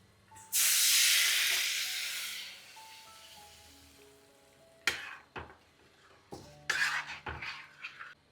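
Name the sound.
water added to hot tempering for tomato dal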